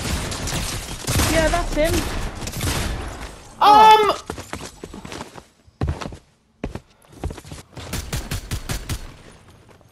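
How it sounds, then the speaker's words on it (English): Gunfire in the video game Fortnite, a loud rapid burst with scattered sharp shots and footsteps, under excited talk from players. "What kind of fucking gun is that?"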